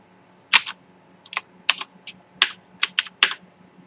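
Filco mechanical keyboard with MX Blue switches, several keys pressed together in quick sharp clicky clusters, about nine bursts in a few seconds, close and alone.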